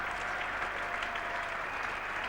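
Steady, dense applause from a cricket crowd at Edgbaston during the 1981 England v Australia Test, greeting the 200 total, a continuous even wash of clapping heard from a distance across the ground.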